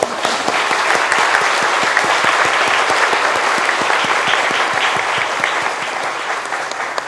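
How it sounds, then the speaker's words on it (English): Loud, steady applause from a seated audience at a biotech and medicine masters' forum, many hands clapping evenly for several seconds and easing slightly toward the end. "give a big applause for all of them and for yourself too"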